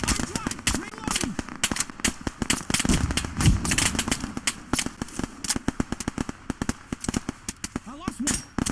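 Rapid gunfire in the Operation Harsh Doorstop video game. Close, loud bursts of shots crack in quick irregular succession almost without pause, with shouted voices mixed in among the firing.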